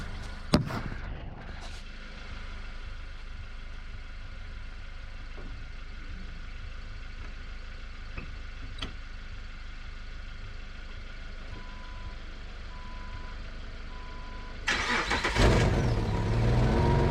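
A Jeep being jump-started from a Hyundai car, its engine idling in a low steady rumble with a few faint clicks, a brief loud burst near the start and a louder surge of engine noise at the end.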